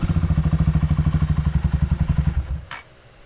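DM200 motorcycle engine fitted with an aftermarket exhaust, running with a fast, even loping pulse of exhaust beats, loud and close, then cutting off abruptly near the end with a brief click.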